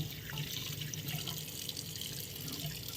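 Rice is washed under a running kitchen tap, a steady, close rush of water splashing into a sink with constant hiss and no talk.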